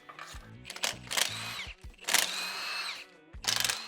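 A power tool with a 13mm socket runs in several short bursts on a Jeep JL steering stabilizer bolt, close and whirring, with a ratcheting rattle and quiet gaps between pulls.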